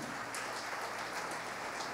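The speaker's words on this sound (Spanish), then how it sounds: "Dele un fuerte aplauso al Señor." Church congregation applauding for the Lord during a Spanish-language sermon in Barinas, Venezuela, a dense, even patter of many hands clapping that sounds almost like rain, steady throughout without talk.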